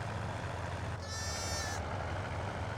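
Sheep bleating in the Farming Simulator 22 game, a single drawn-out harmonic bleat lasting under a second over a steady low engine-like drone, with no talking.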